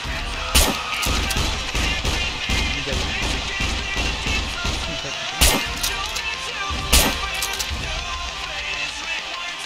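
Gunfire in the survival game SCUM, sharp loud shots cracking out at irregular intervals over dense game noise and background music.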